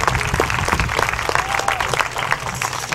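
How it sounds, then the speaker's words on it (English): Sustained applause from a crowd at a youth cattle show honoring young livestock exhibitors, dense clapping throughout at steady loudness. "Let's give these young men and women a nice round of applause."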